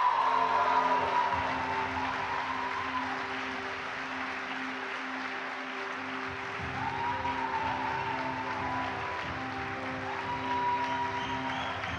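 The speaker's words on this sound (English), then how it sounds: "another big round of applause for the finalists" Audience applause for an award winner at a policy forum gala, a steady, dense clapping from a large crowd that holds for the full twelve seconds with light cheering mixed in.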